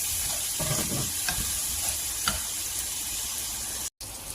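Onions frying in hot oil alongside frozen koi fish give a steady, close sizzling hiss with a few soft stirring scrapes, cut by a brief dropout near the end.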